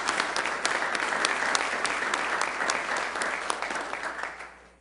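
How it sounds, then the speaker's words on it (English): Applause at a city council meeting in Sioux Falls, a room of people clapping steadily with sharp individual claps standing out, fading away toward the end. "Let's give them a round of applause real quick."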